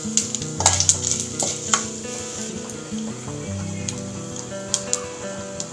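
Tempering spices sizzle and crackle in hot oil in a pan for a Godavari-style jackfruit curry, with steady frying hiss, occasional stirring clicks and pops, close and prominent.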